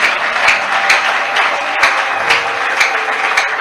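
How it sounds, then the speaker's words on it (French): Loud, sustained clapping and acclamations from a church crowd at an evening worship meeting, dense and even throughout with faint cheering voices woven through the applause. "Doublez les acclamations pour la gloire."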